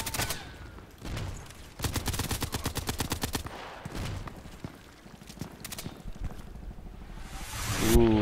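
Rapid automatic gunfire in the online shooter Contract Wars, several close bursts of shots in quick succession with short gaps, over background game sounds.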